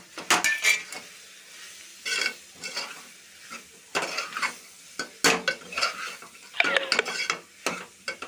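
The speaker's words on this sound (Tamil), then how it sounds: "மிளகாய் பொடி மஞ்சள் பொடி பிரியாணி மசாலா சிக்கன் மசாலா போட்டு நல்லா வதக்கிக்கலாம்" Chili, turmeric, biryani masala and chicken masala powders sautéed with chicken in a pan, with irregular bursts of a spoon scraping and clinking against metal over a low sizzle, no talking.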